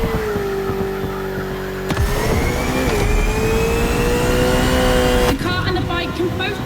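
GT3 race cars in the video game The Crew Motorfest, an Italian 600-horsepower machine among them, engines droning and rising in pitch through gear shifts with tire noise, loud and close, while a commentator talks over it.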